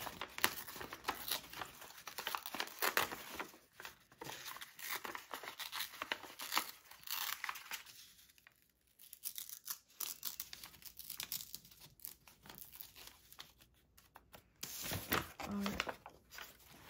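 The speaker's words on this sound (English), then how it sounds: "we're gonna go ahead and just kind of rip this out" A paper page is torn out of a journal in a series of close, crisp ripping and crinkling bursts, with brief pauses and a final rip near the end; soft talk is heard between the tears.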